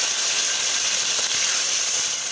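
Steady hiss of ginger and chili paste frying in hot oil, an even, unbroken sizzle with no voices.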